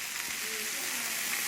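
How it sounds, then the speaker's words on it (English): Buffalo meat and eggs grilling as a midnight snack, a steady close sizzle and crackle of frying with faint voices in the background. "they're cooking up some buffalo here"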